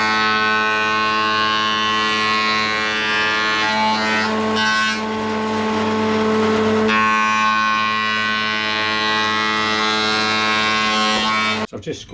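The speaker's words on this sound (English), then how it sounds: "I think I'll just stick it through the planer, flatten them off." Thickness planer running steadily as glued-up oak star pieces feed through, a loud sustained mechanical drone with strong harmonic hum, rising briefly in grit as the wood is cut, then cutting off abruptly near the end.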